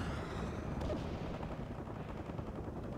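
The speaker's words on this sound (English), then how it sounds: "Incoming fire!" Dense, continuous battlefield gunfire from the World In Conflict: Soviet Assault skirmish on the Virginia map, a steady rumbling barrage of overlapping shots and low booms that holds loud throughout.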